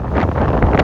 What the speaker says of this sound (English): it is so incredibly windy out today